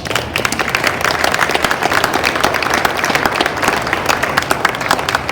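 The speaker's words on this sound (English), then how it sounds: "Let's give them all a round of applause." Loud, dense applause from the audience at a Boys & Girls Clubs of the Los Angeles Harbor State of the Clubs event, sustained clapping filling the room close up for several seconds without letup.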